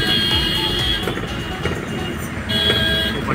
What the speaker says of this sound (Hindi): ट्रैफिक ज़्यादा है यहाँ पर अभी।